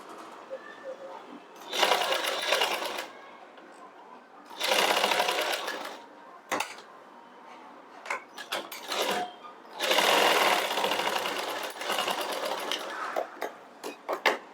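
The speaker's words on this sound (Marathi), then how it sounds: "अर्धा इंच एवढं मार्जिन सोडून इथे आपल्याला शिलाई मारायची आहे" A sewing machine stitches a garment shoulder seam at close range, running in several loud, steady mechanical bursts of rapid needle chatter separated by quieter pauses where fabric is handled and a voice speaks.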